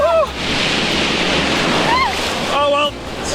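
Surf and breaking waves on a New Zealand beach rush in a loud continuous wash with wind buffeting the microphone, while voices shout and exclaim over the roar.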